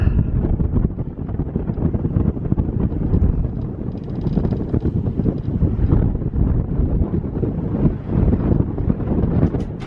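Strong wind gusts buffet the microphone at a mountain trail viewpoint above a dam on the Appalachian Trail. The roar is loud, steady and rumbling for the whole stretch, with no talking.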